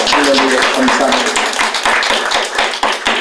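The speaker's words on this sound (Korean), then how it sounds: "하나님께 박수로 한번 영광을 돌려주시기를 바랍니다" A church congregation claps together in thanks, a dense, steady burst of applause lasting the whole moment, with a voice briefly audible at the start.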